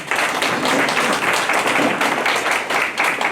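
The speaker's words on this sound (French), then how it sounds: "Je voudrais qu'on l'acclame ici." An audience at an investiture ceremony for a party section's secretary general in Paris breaks into steady, dense applause, many hands clapping loudly and continuously throughout.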